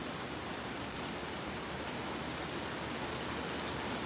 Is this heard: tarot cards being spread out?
no